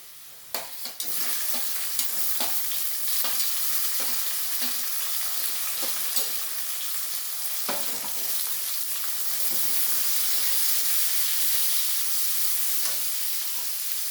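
Chopped tomatoes dropped into hot oil with onion and garlic for a Bengali doi katla fish dish, bursting into a loud, continuous close sizzle with occasional stirring scrapes throughout.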